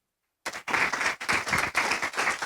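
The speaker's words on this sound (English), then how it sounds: "Please give a round of applause to Parisa." Applause at a Falling Walls Lab science pitch event in Kuopio, Finland: after a moment of silence, clapping erupts suddenly and continues in close, uneven waves.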